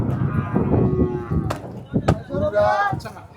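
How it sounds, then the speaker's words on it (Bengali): A cow at the Simulia cattle market lows in deep, drawn-out moos close by, amid crowd chatter, a few sharp knocks, and people talking nearby. "এই যে দেখুন গরুটা।"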